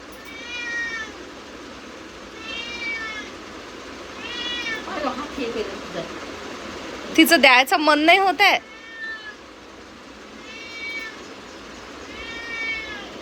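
Several house cats meowing in a home, repeated drawn-out meows spaced through the stretch, with a short burst of louder overlapping cries in the middle and a person talking between them.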